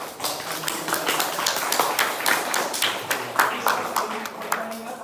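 Light applause for a speaker after a seminar talk, sparse clapping from a small audience with individual claps standing out and faint voices underneath.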